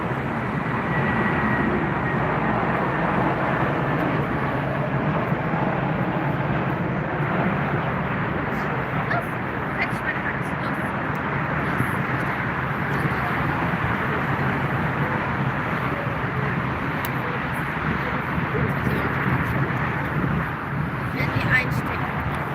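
Steady, broad jet roar of an EasyJet airliner arriving at Frankfurt Airport, loud and continuous throughout with no pauses, a constant wash of engine and air noise.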